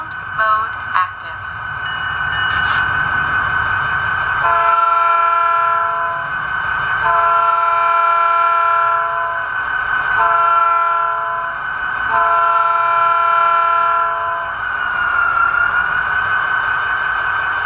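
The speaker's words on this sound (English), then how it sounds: "this locomotive does have TCS wow sound" An HO model locomotive with a TCS WOW sound decoder sounds its horn in several long sustained blasts over a low rumbling engine idle, with brief clicks at the start.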